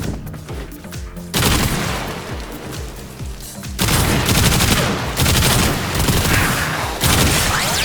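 The Basmu weapon firing in the Warframe video game, loud, dense sustained bursts that start and stop abruptly in several long stretches, with booming impacts and no talk.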